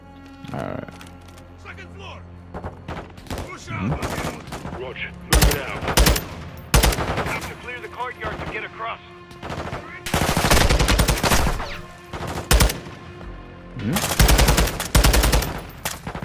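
Bursts of automatic gunfire in Call of Duty: Modern Warfare II, with loud volleys around five, nine to twelve and fourteen to sixteen seconds over a steady game soundscape.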